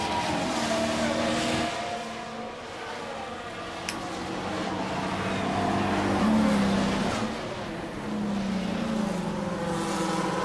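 Formula 1 cars in F1 Manager 24 running in a close queue, a sustained engine roar that swells and fades as cars pass, with a brief click partway through.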